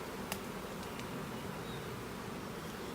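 Honey bees buzzing around an open hive during an inspection, a steady diffuse drone with a brief sharp tick near the start, no voices.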